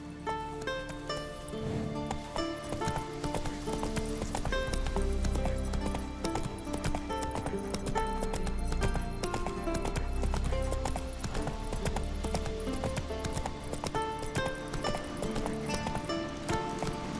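A horse gallops in The Witcher 3: Wild Hunt on the way to Skellige, steady rhythmic hoofbeats running the whole time beneath a loud musical score.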